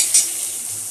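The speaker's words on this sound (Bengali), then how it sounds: "আর এখানে ঢেঁড়স ভাজা হচ্ছে।" Okra frying in a pan gives a steady, bright hiss of sizzling oil with a brief louder crackle near the start, close and continuous, with no voices.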